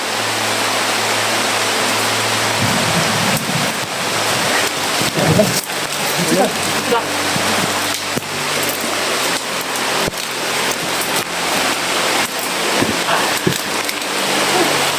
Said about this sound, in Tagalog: Sobrang ulan na tol.